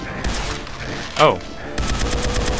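Gunfire in the video game Lithium comes as rapid automatic bursts at the start and end, split by a single sharp rising synthetic shot in the middle, all loud and close.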